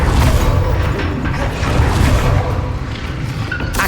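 The Incendio fire spell in Hogwarts Legacy roars out as a loud, dense rush of crackling, rumbling flame that sustains throughout with low booming weight and no voices.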